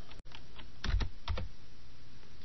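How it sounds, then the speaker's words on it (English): Typing on a computer keyboard while entering a cell reference in an Excel dialog box, a short burst of several close, crisp key clicks clustered together, heard alone without talk. "In the location range box, type G3"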